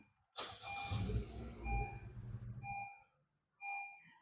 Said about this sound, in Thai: ปุ่มพุสตาร์ท